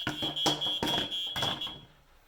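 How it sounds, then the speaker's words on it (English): An old 1990s smoke alarm gives several sharp, loud electronic beeps in quick succession with a steady high tone throughout, then falls quiet near the end. "It does kind of make a chirp sound when"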